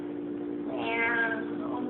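A single drawn-out meow, close and fairly loud, rises and falls over a steady background hum, with nobody talking. It could be a real kitty or a person imitating one.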